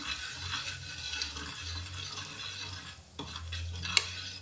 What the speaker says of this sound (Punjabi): ਇਹਨਾਂ ਮਸਾਲੇ ਨੂੰ ਆਪਾਂ ਥੋੜਾ ਜਿਹਾ ਭੁੰਨ ਲੈਂਦੇ ਹਾਂ